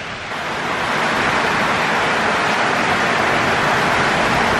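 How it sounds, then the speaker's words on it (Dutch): Rain starting to fall outdoors near waterfalls around Cairns, Australia, a steady, broad hiss of falling drops that swells in the first moment and then holds loud and constant, with no voices. "Begint het te regenen."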